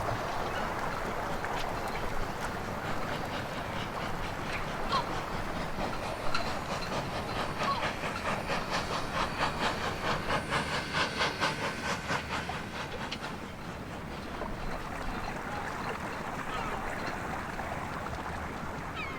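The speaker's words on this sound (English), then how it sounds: "Just on the steam train." A steam train rumbles steadily with a rhythmic clickety-clack of wheels on rails near Blackness on the Firth of Forth, mixed with wind and outdoor noise, no talking.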